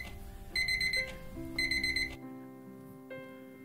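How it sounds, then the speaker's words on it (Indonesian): An alarm clock rings in repeated bursts of bright electronic beeping, fairly faint, with a low tonal hum beneath that continues after the beeps stop. "alarm bunyi."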